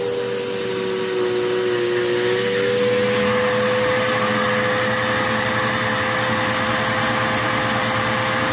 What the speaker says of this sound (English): get your vacuum cleaner.